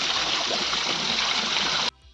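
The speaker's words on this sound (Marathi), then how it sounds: "बघा जणू काय झराच लागलाय तिथं" Water pours down steadily like a spring in an outdoor spot where sheep are grazing, a loud continuous splashing rush that cuts off abruptly near the end.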